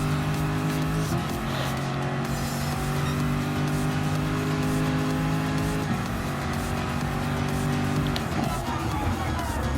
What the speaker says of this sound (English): now let's go and take on the Nürburgring 24-hour Mercedes-Benz